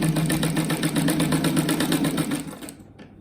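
A sewing machine stitches a fabric strip rug with a fast, even rhythmic whirr and clatter. It is loud and close, then slows and stops near the end, with no talking.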